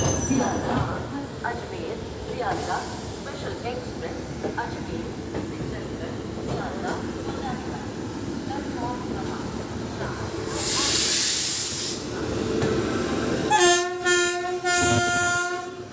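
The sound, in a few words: Indian Railways Shram Shakti Express locomotive at station at night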